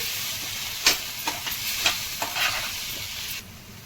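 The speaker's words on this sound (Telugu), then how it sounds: "ఆయిల్ వేడెక్కింది. టమాటా ముక్కలు వేసుకుందాం." Tomato pieces and tamarind frying in hot oil for a drumstick vada recipe, a steady close sizzle broken by several sharp scraping stirs of a spatula in the pan.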